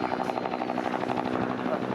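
Bell UH-1 Iroquois 'Huey' and Hughes OH-6 Cayuse helicopters at an air show, a steady rapid rotor thump and engine whine running throughout with a voice talking over it.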